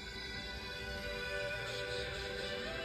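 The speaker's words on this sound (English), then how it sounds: "So that sound you're hearing is really coming from these speakers here." A song plays through a pair of 2.9 ohm speakers in a circuit demo, a steady full-band music mix that fills the room at an even level throughout, with no talking.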